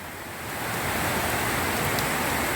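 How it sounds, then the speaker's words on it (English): Heavy rain pours onto a flooded street at night in Paramaribo, Suriname, a dense, steady roar of water that swells in the first half second and then holds loud and unbroken, with no voices. "It's a rainy night."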